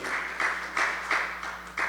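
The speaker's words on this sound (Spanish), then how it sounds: "Denle un fuerte aplauso al Señor" A church congregation claps in a few short bursts spaced at regular intervals, moderately loud with a faint hum beneath.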